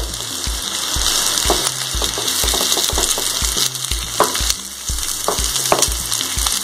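Prawns frying for a coconut dry fry, a loud continuous sizzle broken by repeated scraping stirs of a spoon in the pan, close and busy throughout.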